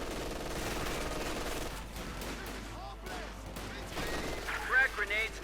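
Bursts of gunfire from a Company of Heroes 2 battle rattle through a steady bed of game ambience, with a commentator talking over the shooting.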